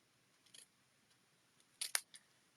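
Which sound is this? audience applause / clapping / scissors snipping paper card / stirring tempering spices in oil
scissors snipping paper card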